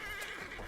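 A horse in the game Battlefield 1 gives a short, wavering neigh lasting under a second, fairly close and clear, with faint hoof clopping mixed in.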